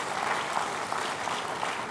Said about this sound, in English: Can we give a round of applause for what they